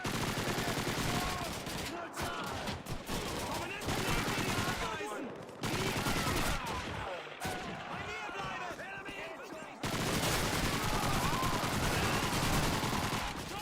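Heavy gunfire from a World War II-style war video game on Xbox 360, with rapid machine-gun bursts and repeated volleys that break off and resume loudly, while voices shout during the fighting.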